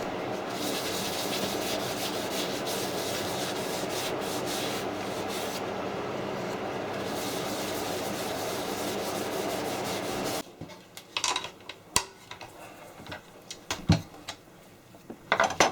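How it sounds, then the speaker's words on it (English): Oak plant pot spinning on a wood lathe while being buffed, a steady close rubbing whir that runs continuously for about ten seconds, then cuts off, leaving scattered small knocks and handling sounds. "Turn the lathe on, then buff it all off again."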